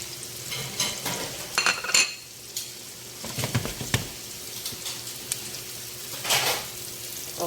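Ginger and chicken gizzards fry in a pan with a steady sizzle, broken by repeated clanks and scrapes of a utensil stirring against the metal, coming in bursts at close range.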